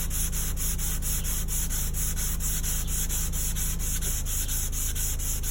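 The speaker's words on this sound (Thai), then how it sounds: "ทีนี้ขัดน้ำนะครับครับ ละอองสีดำที่เราโปรยก็เริ่มค่อยๆจางออกนะครับ" Car body filler is wet sanded by hand on a vehicle panel during auto body repair, a continuous, even, close scrubbing rasp with a fast repeating rhythm that never lets up, with no voices.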